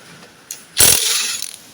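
A ratchet loosens the front engine pulley bolt on a 1989 Dodge Dakota. One sharp, loud burst of ratcheting comes close up, followed by a brief trailing rattle.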